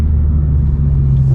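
Tenth-generation Honda Civic Si with a stock shifter and Phearable Stage 1.5 tune, heard from inside during a rough downshift: a brief, loud, steady low engine rumble and drone.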